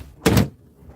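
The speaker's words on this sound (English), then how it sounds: "I have to close the door." A door is pushed shut on a rainy day, producing one loud, brief broadband whoosh and thud that stands alone against a quiet background.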